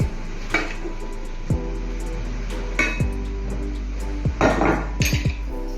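Crêpe batter being stirred with melted browned butter in a bowl, a utensil scraping and knocking against the side in a few scattered clinks and taps, close and clear over a steady low kitchen hum.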